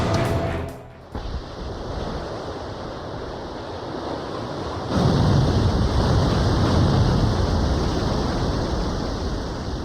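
A giant submarine surfaces in an Ace Combat 5 battle scene, heard as a broad, roaring wash of churning water and wind that swells into a louder, heavier surge midway and holds steady.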